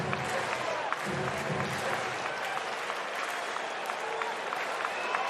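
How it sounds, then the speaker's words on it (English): Baseball stadium crowd at a Cleveland vs Cardinals game roaring steadily through a full-count 3-2 pitch, a dense sustained wash of cheers and clapping that holds loud for several seconds with scattered whistles. "The crescendo of the crowd, I love it."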